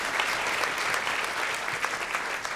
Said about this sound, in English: Just give them another huge round of applause.